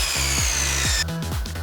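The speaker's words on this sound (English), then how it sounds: "So I'm gonna cut a little bit more off and try fitting it again." A power saw cuts through a board to shorten a truck bed divider for a 2014 Ram 1500 short bed, a loud, steady buzzing drone with rhythmic dips in pitch as the blade works, then the motor winds down near the end.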